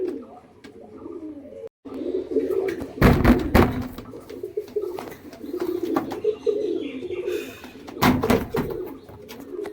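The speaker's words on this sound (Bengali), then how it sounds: "যদি কারো পছন্দ হয় এই পায়রা জোড়াটা, হাই ফ্লাইং পায়রা জোড়াটা থাকছে" High-flying pigeons coo softly nearby, a low, murmuring pulse that repeats through the stretch, broken by a few knocks and thumps, with no one speaking.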